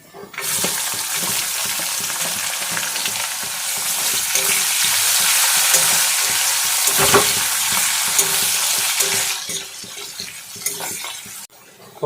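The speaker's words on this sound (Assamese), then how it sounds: "কাটি লোৱা পিঁয়াজ দি দিম।" Chopped onions frying in oil with whole cumin in a pan, a steady loud sizzle with stirring scrapes throughout, cooking Assamese banana stem with fish head.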